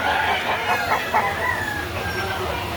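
Chickens at a busy poultry market cluck and crow in a run of overlapping calls, heard over steady crowd and market noise.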